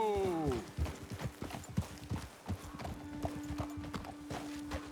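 A horse gallops in Red Dead Redemption 2, close and loud irregular hoofbeats slowing down, opening with a whinny and running under a steady hum, with a voice speaking over the hooves.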